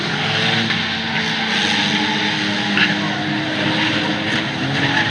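Banger racing cars at Bovingdon Raceway skid and rev on the track, a continuous roar of engines with tyre squeals and scraping, heard from trackside with a faint commentary voice in the background.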